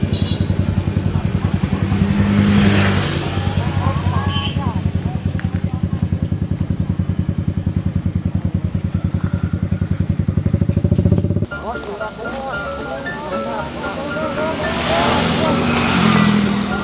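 A motorcycle engine runs loudly and steadily, with a sharp change partway through and faint voices in the background.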